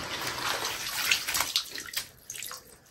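Crayfish being rinsed under running water, a steady splashing rush with bursts of sloshing as they are stirred, fading to lighter trickles and drips near the end.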